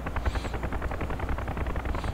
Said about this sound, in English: What you're hearing right now is not my helicopter. That is a Marine Cobra.